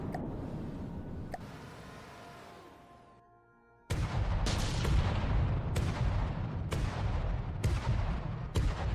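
A vessel's guns fire continuously in the From The Depths naval combat game, first one loud blast fading into quiet, then a rapid run of sharp, heavy booming shots at a steady rhythm, close and loud.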